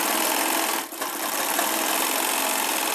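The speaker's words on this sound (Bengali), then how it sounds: "ওপর অবধি সেলাই করে নিয়ে যাব" A sewing machine runs steadily and loudly up close, stitching a folded seam on a two-panel petticoat. The motor gives a continuous whir that dips briefly for a moment and then carries on.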